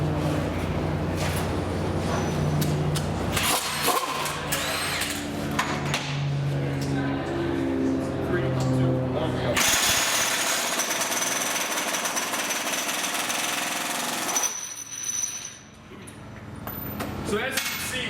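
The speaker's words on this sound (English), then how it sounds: "we broke the bolt free in about 2 seconds, whereas the competition, the pneumatic competitor, took about 5 to 6 seconds to do" A Milwaukee M18 FUEL high-torque impact wrench and a pneumatic impact tool break bolts free, with loud, continuous hammering bursts and sharp rattling impacts and a brief lull near the end.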